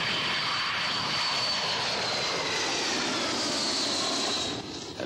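A Boeing 727 jet makes a low pass over Meigs Field in Chicago, its engines a loud, steady broadband roar that fills the whole clip, with no one talking.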